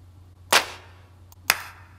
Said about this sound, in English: We have single and group claps,